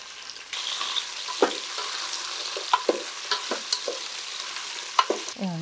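Carrots, potato pieces and beans fry in a pan for Karnataka-style bisi bele bath, a steady close sizzle punctuated by frequent sharp scraping stirs of a spatula.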